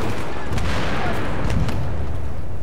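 Battlefield 3 gameplay with grenade explosions and gunfire, a steady wall of booming blasts and rattling shots filling the whole stretch at close, loud volume.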